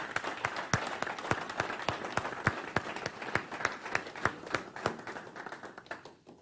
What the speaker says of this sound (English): Let's give Michael a round of applause for everything he's done in his company.